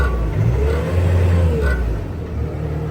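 A 2017 Bobcat S650 wheeled skid steer engine revs up from idle, a steady close rumble that swells in the middle and then eases back down.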